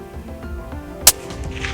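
A single sharp Ruger Precision Rifle shot cracks out once near the middle, fairly loud and close, over a low outdoor background with no talking.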